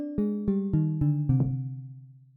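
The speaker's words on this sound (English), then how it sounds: "you're going to have your mallet that's going to be simultaneously hitting 2 resonators" A synthesized mallet struck against two parallel resonators in Ableton's Collision gives a quick run of about six bright, bell-like pitched tones, each ringing briefly before a final note decays smoothly, clean and alone.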